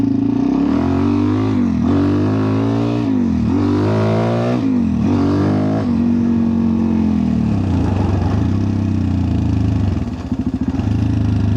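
A Suzuki DR-Z dirt bike on a dirt track revs up and down in repeated rising engine pulls, close and loud, then settles toward a lower idle-like drone near the end.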